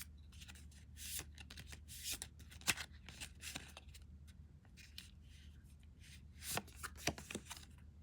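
Oracle cards being shuffled produce repeated quick papery riffles and soft slaps in irregular bursts, close but fairly quiet, with no speech.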